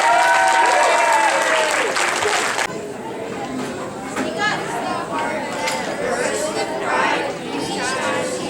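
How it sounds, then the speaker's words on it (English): An audience at a Mother's Day school event gives loud, sustained applause with crowd chatter mixed in, the clapping strongest at first and then settling to a steady, slightly softer level. "You guys give them a big round of applause."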